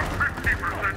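Rapid automatic gunfire in a Halo Infinite battle fires about four evenly spaced shots in one second, loud and up close over a steady background of combat noise.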